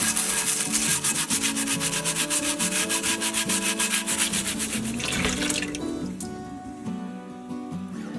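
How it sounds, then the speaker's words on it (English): A scrubber brush rubs back and forth over a cast iron Dutch oven lid in quick, rhythmic, close strokes over running tap water, then slows and stops. "we're calling in action the scrubber brush. I'm going to give this one little scrub."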